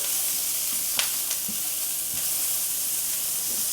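Broccoli frying with seasoning in butter in a pan gives off a steady close sizzle, with a few soft stirring scrapes over it.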